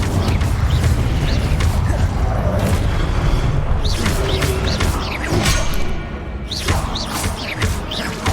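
Incendio fire spell cast in Hogwarts Legacy on PS5, a loud, dense burst of magical whooshes and booming impacts amid continuous battle effects, with repeated sharp swishes and crashes throughout.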